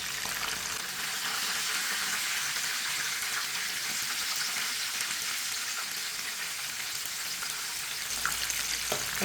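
Chicken frying tandoori-style in a pan, a loud dense sizzle that runs steady and unbroken throughout, with faint clinks near the end and no talking.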